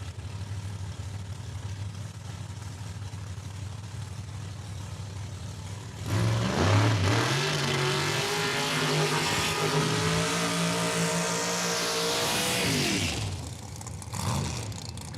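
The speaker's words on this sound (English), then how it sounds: "Couple of nice burnouts there." Drag race cars, including a 2019 Chevy Corvette, do burnouts at Saskatchewan International Raceway: a low idle rumble, then a sudden loud burst of revving engines and screeching tires that holds for several seconds before dropping off, with a brief rev afterward.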